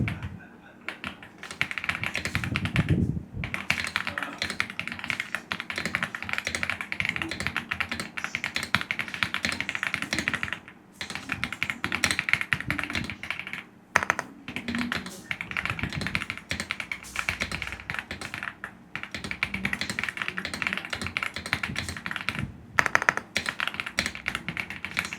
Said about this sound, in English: I can't show a keyboard without giving a sound test.